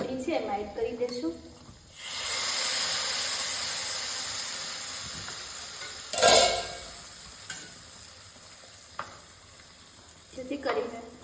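Hot tempering of oil, garlic paste and chili powder is poured into Punjabi kadhi, giving a loud sustained hiss and sizzle, followed by stirring clinks and a sharp burst of spitting; a voice speaks around it.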